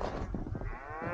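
Cattle in a field give a low, drawn-out moo, close and fairly loud, filling the short moment without any talk.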